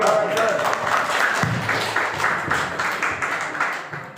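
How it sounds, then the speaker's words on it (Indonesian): A seated audience at a Kemenag Jember technical training session claps in a moderate, uneven round of applause, with speech mixed in under it. "Tepuk tangan ya"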